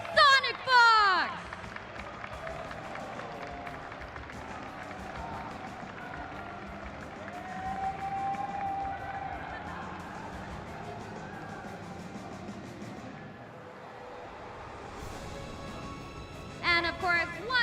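Crowd at the Evo 2024 fighting-game tournament cheers and applauds the champion: a sustained roar of cheering and clapping fills the middle, with an announcer's amplified voice at the start and end.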